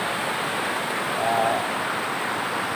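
A steady, broad rushing roar of turbulent water, loud and unbroken throughout, with no voices.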